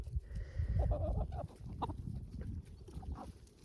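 Chickens cluck and a young rooster, a black French Copper Maran, calls on a small farm at morning feeding, close and busy, with a short crowing burst among the clucks.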